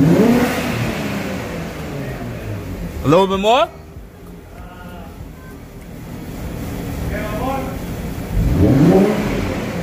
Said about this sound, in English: I'm gonna give it some revs so I can increase the amount of oil pressure